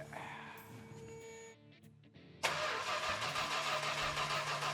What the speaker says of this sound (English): let's start and see if it just cranks over.